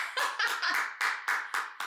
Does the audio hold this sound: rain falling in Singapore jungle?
no